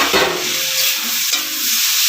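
Tomato tipped into capsicum frying in a pan: a loud, steady hiss of sizzling oil fills the moment, with a brief stirring scrape near the start and no voices.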